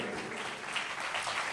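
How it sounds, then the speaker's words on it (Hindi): A church congregation claps together in a dense, sustained burst of applause, close and fairly loud for a moment, with no speech over it. "एक बार ताली बजाएं।"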